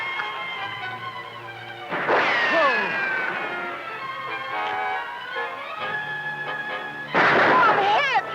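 Gunfire erupts during a Western TV show shootout, with two sharp cracking bursts several seconds apart over music and a horse's cries.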